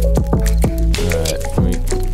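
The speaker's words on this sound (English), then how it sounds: "drink some water, put that out." Gulping, squishy drinking sounds from a character drinking water in the survival game 7 Days to Die, a quick run of wet swallows with dripping liquid, loud and close, with game music tones underneath.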